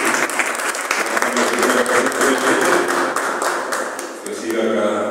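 Loud, dense applause from an audience at a Spanish-language poetry anthology presentation, sustained clapping with scattered cheers and voices mixed in, steady for the whole stretch and easing slightly near the end.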